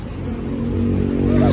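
Car traffic on a street in Korea rumbles nearby, a vehicle engine swelling louder as it passes, with a steady low drone and no talk.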